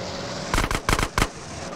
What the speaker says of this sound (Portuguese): A galera dando os tiros aí